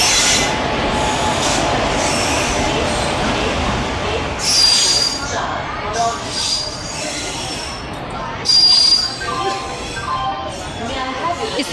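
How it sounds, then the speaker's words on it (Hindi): The Barauni Express pulls into a platform at Barabanki station with a loud, continuous rumble of wheels on rails and high metallic squeals that rise and fade several times, and people talking nearby. "यहाँ पे हम लोग की ट्रेन आ गई है, बरौनी एक्सप्रेस।"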